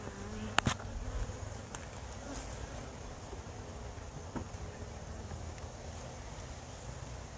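Honey bees buzz around an open hive while the beekeeper handles a frame full of pollen and nectar, a faint, steady hum with wind noise and a few small knocks.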